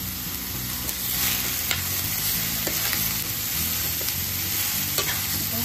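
Ridge gourd sabzi is stirred with masala, green chillies and black masala in a hot pan, giving a steady sizzle with light scraping strokes of a spoon, close up and without talk.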